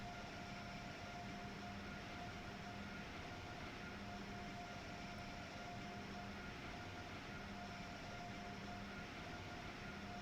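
A train in Train Sim World 3 runs steadily, giving a faint, constant rumble with a thin hum, even throughout and without talk.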